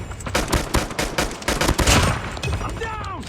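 Rapid submachine gun bursts in the mobile shooter Call of Duty Mobile during a hardpoint match, loud, dense crackling volleys filling the whole stretch with other gunfire mixed in and no talking.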